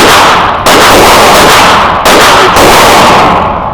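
Close, loud shots from an STI Staccato C pistol firing Federal HST 124 grain rounds at 25 yards, three sharp reports spaced about a second and a half apart, each with a ringing decay.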